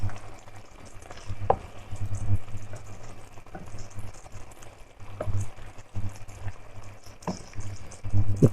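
Endive confit sizzling softly in a pan while being stirred, a low hiss broken by occasional scrapes and clicks of the spoon at an uneven pace.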